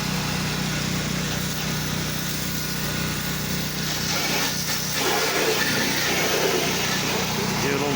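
A pressure washer sprays a house's driveway and gutters with a constant loud hiss and motor drone, its tone shifting slightly as the spray moves across surfaces.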